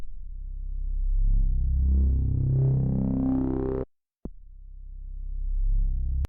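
A buzzy synthesizer wavetable tone with soft-clip distortion rises and sweeps in pitch with a gritty, lightly distorted edge, cuts off briefly, then returns at a low held pitch.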